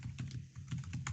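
Fast typing on a computer keyboard, a run of close, light key clicks in quick irregular bursts with no voice over them.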